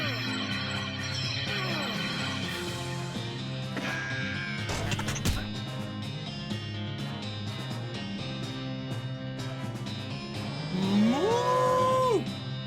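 A cartoonish cow moos in the comedy western role-playing game West of Loathing, a rising, drawn-out call near the end, over steady game music and effects.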